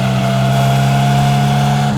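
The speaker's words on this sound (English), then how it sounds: "2 litre straight 8. This one's supercharged." Supercharged 2-litre straight-eight engine of a Bugatti Type 35 racing car, a loud steady drone with strong low harmonics as it runs at sustained speed, close and alone throughout.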